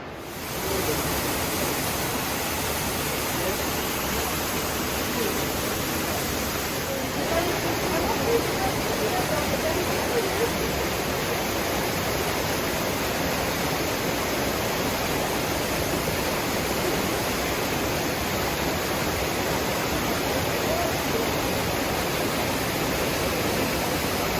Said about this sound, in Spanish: Y esta es la cascada que os decía antes